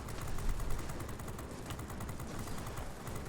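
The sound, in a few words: aircraft cannon fire in video game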